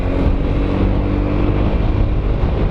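A Yamaha Xmax 250 scooter accelerates with a loud, steady engine drone and heavy wind rush from a riding position, continuous throughout with no speech.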